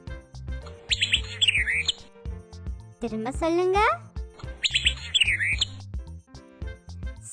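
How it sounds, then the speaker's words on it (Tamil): A bird chirps in repeated bright, high twittering bursts, trading turns with a child and an adult talking between the calls. "பறவை என்ன சத்தம் போடும்?"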